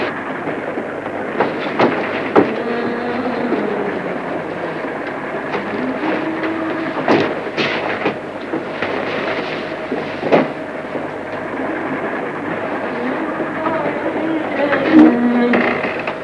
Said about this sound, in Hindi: रेलगाड़ी चली जा रही है